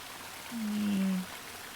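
Water flows in the video game The Longing, heard as a short, soft, smooth burble that swells for under a second over a quiet, steady background hiss.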